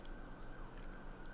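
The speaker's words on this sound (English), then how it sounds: "Police car moving by." A police car siren sounds steady and loud as the car drives past, blending with continuous street noise and traffic rumble.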